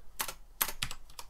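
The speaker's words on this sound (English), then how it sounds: "I can type in anything." Quick bursts of keystrokes on a computer keyboard, a few short clicky clusters close to the mic with brief pauses between them, no talking.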